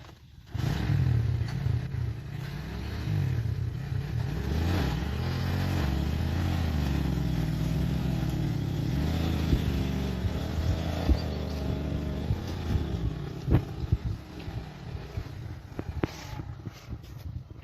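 Motorcycle engine drones steadily for the full stretch while hauling a heavy loaded cart, a close, low rumble with some clatter; a short idle start, then constant running with small surges near the end.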